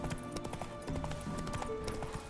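Horse hooves clip-clop at a brisk, uneven trot in The Witcher 3: Wild Hunt, sitting under a game soundscape with occasional faint snorts and no voices.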